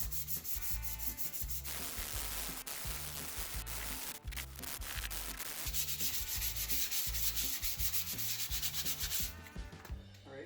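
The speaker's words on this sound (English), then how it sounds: "I'm going to start by sanding this up. I've got some 320 here." Steady rubbing of 320-grit sandpaper worked by hand across a table made from firewood, continuous and fairly close for about ten seconds with no talking.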